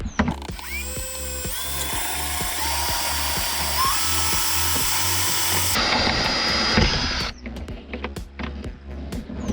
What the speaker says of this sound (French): J'ai un forêt en 16 mm. Hop. On va venir percer ça.